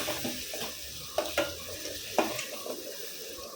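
Ground shallots stirred into a sizzling fish curry base in a pan for sankara fish kuzhambu, a steady fry with a few sharp spoon scrapes and clinks, close and moderately loud, without talk.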